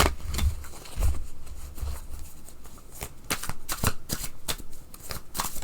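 A small deck of cards is shuffled by hand in a quiet room, a series of close, crisp riffling bursts and taps repeating in irregular rhythm, with no voices.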